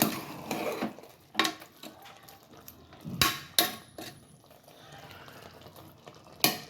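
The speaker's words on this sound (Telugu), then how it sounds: "కొబ్బరి వేసిన తర్వాత నేను మరొకసారి కలుపుతున్నానండి" A spoon stirs spicy Telangana-style chicken curry with fried coconut in a pot, giving irregular sharp metallic knocks and scrapes against the vessel, spaced apart with quieter gaps between.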